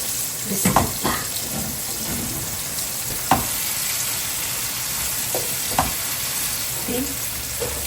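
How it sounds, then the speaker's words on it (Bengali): Washed cauliflower drops into a hot frying pan and sets up a continuous hiss of sizzling. A few sharp clatters and stirring knocks stand out over it. "এতে দিয়ে দিচ্ছি আমার ধুয়ে রাখা ফুলকপিগুলো"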